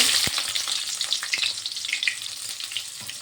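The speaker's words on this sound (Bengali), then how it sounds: "এই তেলটা গরম হয়ে গিয়েছে, পেঁয়াজ দিয়ে দেবো" Sliced onions hit hot mustard oil in a kadai, bursting into a loud sizzle that crackles and spits, then settles into steady frying with occasional pops, close by with no voices.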